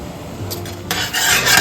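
Whole spices, cumin seed, black peppercorn, cardamom and cloves, are stirred in a pan for a soya chunk dry fry, giving a loud close raspy scrape and rustle over a low sizzle, growing busier partway through.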